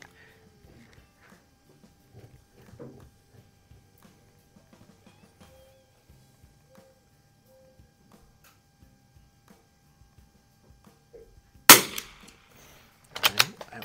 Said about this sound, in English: they're going to be blasting away a couple of loud guns